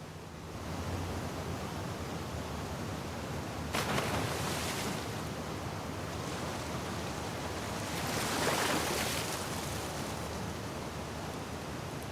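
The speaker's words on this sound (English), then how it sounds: "the section swimming to the aquarium as Ellie, when you were avoiding the waves" Water waves wash and surge in the video game The Last of Us Part II as Ellie swims toward the aquarium, a broad continuous rushing noise that swells twice and then settles, with no speech.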